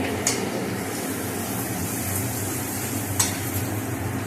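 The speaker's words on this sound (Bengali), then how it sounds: "রসুনটা ভাজা হয়ে গেছে" Chopped garlic fries in hot oil in a pan, giving a steady close sizzle that runs throughout, with two brief sharp crackles near the start and end.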